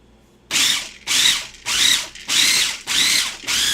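Kitchen food processor pulsing basil pesto greens in five short loud bursts, each roughly half a second long with brief gaps between, the motor whirring up and cutting off repeatedly, close by with no talking.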